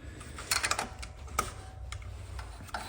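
Tightening the valve adjustment on a Husqvarna lawn mower engine, with a quick cluster of small, close metallic ticks and clicks and a few scattered taps afterward, with no talking.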